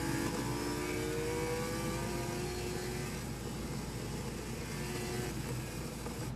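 A motorcycle on a racetrack accelerates hard out of a corner, its engine revving loud and close with rising whine and continuous roar, accompanied by wind noise.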